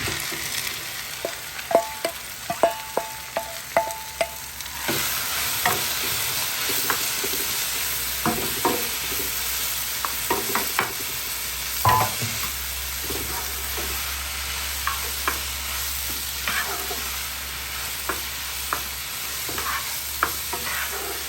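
Okra fries in oil in a pan for okra soup with mussels, a steady close sizzle that swells louder partway through, with frequent scraping and clacking stir strokes and no voices.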